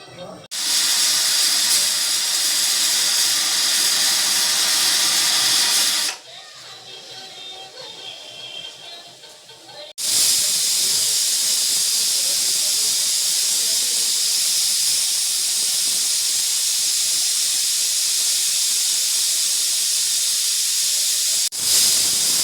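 A pressure cooker cooking chickpeas for chole lets off loud, sustained hissing steam, a long burst followed after a short lull by another long continuous hiss close by.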